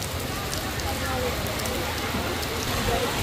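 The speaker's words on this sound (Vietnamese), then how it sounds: "hôm nay đi chợ mà bị mưa rồi" Steady heavy rain pouring onto surfaces at a Vietnamese village market, a dense continuous hiss with no pauses.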